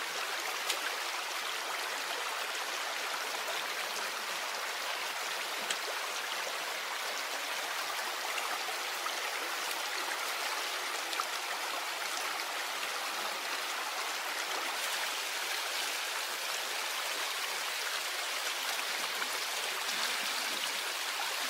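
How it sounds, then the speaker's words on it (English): A steady, full-bodied rush of stream water flows continuously and close by, with no break in the sound, in a rocky stretch of current where a heavy, water-filled net and bamboo fish traps are set. "without lifting the heavy, water-filled net out of the stream"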